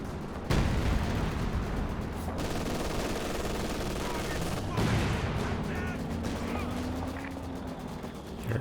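Howitzer artillery bombardment in Company of Heroes 2 booms through a dense battle soundscape, with sharp heavy blasts standing out over continuous gunfire and rumbling explosions.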